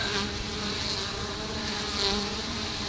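Honey bees buzz around a hollow caulking tube set in a hive trap-out, a steady, dense droning hum close by with no voices.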